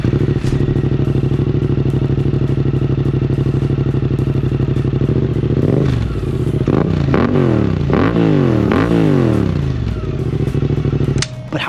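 A 2024 Suzuki GSX-8R motorcycle with a Yoshimura slip-on exhaust idles loudly and steadily, then is blipped through several sharp revs that climb and fall in quick succession before settling back, close by with no talking.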